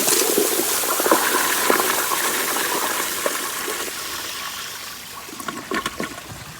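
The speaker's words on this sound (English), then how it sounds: "let's flush it again." A 1992 Kohler Kingston toilet with a flushometer flushes in a loud, continuous rush of water that hisses and gurgles for several seconds before easing into a trickle, with a few faint clicks near the end.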